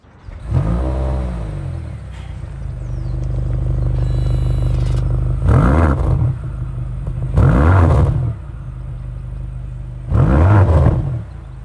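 A BMW XM car with a 748 hp engine starts with a loud crank and bark, settles into a rumbling idle, then gets three sharp revs a few seconds apart, close and loud with no talk.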